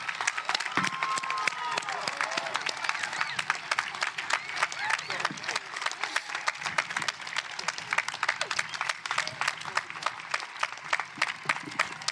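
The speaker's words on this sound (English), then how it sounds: "a round of applause" A graduation audience at a high school ceremony applauds standing school faculty and staff, a steady, dense wash of clapping from a large crowd filling the whole stretch, with cheering and crowd murmur mixed in.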